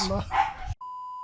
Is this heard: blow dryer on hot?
no